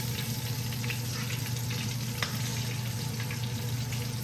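Redfish in a heavy cornmeal coating frying in hot oil, a steady, dense sizzle with light crackling and a low hum beneath, close and continuous with no talk.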